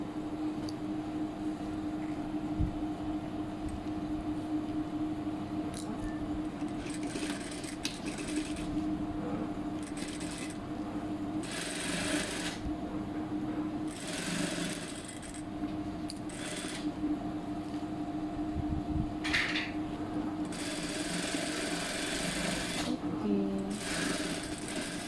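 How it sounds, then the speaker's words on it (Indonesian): Sewing machine stitching the princess line seam of a lace kebaya bodice, a steady close mechanical whir that runs through the clip and pauses briefly between bursts. "Jahit."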